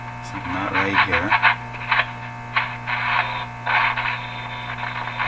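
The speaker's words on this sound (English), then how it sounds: "That noise is interference I hear in my shop all the time." A 1935 Rogers Model 7R622 tube radio emits buzzing, crackling interference with a steady hum underneath, pulsing in irregular bursts of static and warbling tones at moderate volume.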